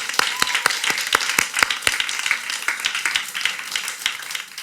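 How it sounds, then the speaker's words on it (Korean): Church congregation gives a brief round of welcoming applause during a worship service, a few close, sharp claps standing out over steady clapping that fades slightly by the end. "우리 좌우에 계신 분들과 또 함께 온라인 예배하는 분들 위해서 우리 환영의 박수 하겠습니다."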